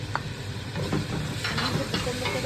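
Three onions go into a pot with lamb meat for Egyptian okra stew, giving a soft, steady sizzle with light stirring scrapes close by, fairly quiet and with no voices.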